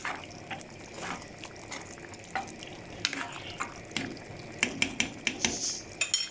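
Sausage with tomatoes and parsley stirs in a pan, frying with a steady sizzle. A spoon clicks and scrapes against the pan throughout, and the clinks grow sharper and more frequent toward the end. No one speaks.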